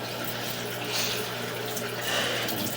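Water runs steadily through a residential drain pipe during a sewer camera inspection, a continuous hollow rushing and trickle heard close inside the pipe.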